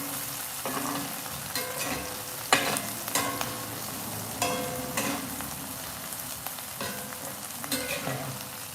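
Chickpeas frying in plenty of oil while being stirred for a vegan chickpea scramble, a steady sizzle broken by several sharp scraping strokes of the spoon, close and alone.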